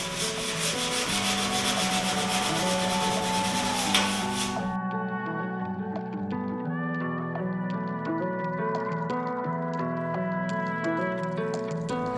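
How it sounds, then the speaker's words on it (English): Repeated rough rubbing of 320 grit sandpaper on a sanding block over damaged carbon fiber epoxy, brisk back-and-forth scratching that stops partway, leaving a quieter tonal background with faint ticking. "I have some 320 grit sandpaper that I just put on my little sanding block"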